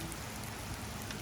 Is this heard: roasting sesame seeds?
no